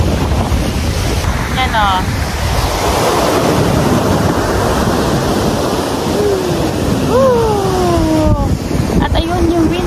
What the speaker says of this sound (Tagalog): Sobrang lakas ng hangin. Fishing. Lakas ng alon.